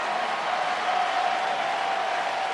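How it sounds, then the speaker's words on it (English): Sustained crowd applause for pitcher Bryce Miller at a baseball game at T-Mobile Park, a steady wash of clapping and cheering from a large, distant stadium crowd. "Bryce Miller gets a big applause here at T-Mobile Park for a job well done"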